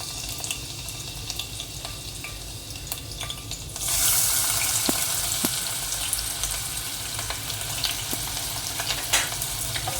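Onion dropping into hot oil in a pan, the quiet hiss jumping to a loud, steady frying sizzle partway through and holding there, with faint clicks of stirring.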